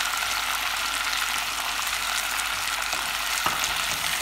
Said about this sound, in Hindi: चीनी डालने के बाद भी मैं इसको बस 1-2 मिनट भूनूंगी